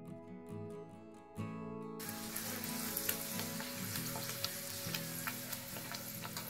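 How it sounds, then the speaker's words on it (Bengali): Green pea kachori dropped into hot oil sizzle steadily and loudly after a brief quieter start, with a dense continuous crackle and faint background music underneath. "তেলের মধ্যে আমি এবার দিয়ে দিলাম বেলে রাখা"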